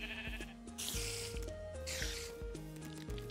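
Sheep in the Minecraft video game bleat repeatedly in quick succession, several overlapping calls with game music tones beneath, close and fairly loud, with no talking.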